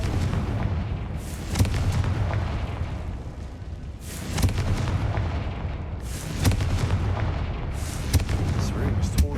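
Confringo blasting-spell explosions in Hogwarts Legacy, a dense run of booming bursts and crackling blasts layered over continuous game rumble, loud and close, with repeated heavy impacts every couple of seconds.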